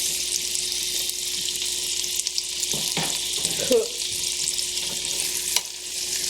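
Mustard and collard greens simmer down in a pot with a steady hissing sizzle, joined by a few brief clinks and stirring sounds partway through.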